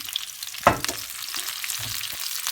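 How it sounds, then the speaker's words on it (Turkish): Cauliflower sizzling as oil is added in a pan while a cauliflower and chicken sauté is cooked, a sharp burst of crackling frying followed by a steady soft hiss, close and fairly quiet, with no talk. "Evet arkadaşlar karnabaharlarımı şöyle yağ ekliyorum."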